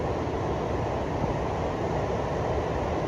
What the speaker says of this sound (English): walking past the rapids on the river